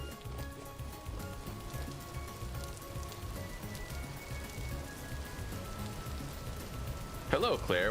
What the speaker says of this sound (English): And the rain is keeping it watered